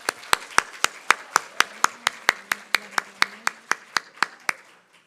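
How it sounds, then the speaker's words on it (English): About twenty sharp, evenly spaced claps ring out in a steady rhythm at a service honoring Jewish educators, slowing slightly and fading at the end, with a faint tone sustained underneath. "give them a round of applause"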